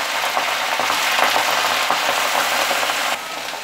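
Chech bhaji greens fry loudly in a pan with garlic and chili, giving a dense, steady crackling sizzle that drops off slightly near the end.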